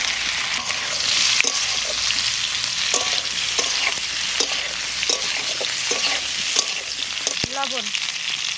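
Potatoes fry in hot oil with bay leaf, dried chilli and cumin, a dense steady sizzle with scattered clinks and stirring scrapes, alone and close.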